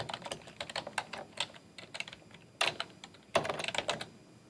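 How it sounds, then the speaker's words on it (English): Fingers tap steadily on a computer keyboard in an irregular rhythm of quiet, close keystrokes, with a couple of sharper key hits near the end. "I can type into my text box."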